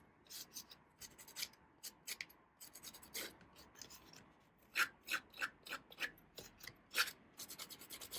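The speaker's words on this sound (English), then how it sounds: "So now I'm gonna distress the edges. I tend to use the side, not opened, the side of the snips." Paper card edges are rubbed back and forth with the side of closed craft snips, making soft close scratchy strokes that start sparse and then speed into a quick regular rhythm.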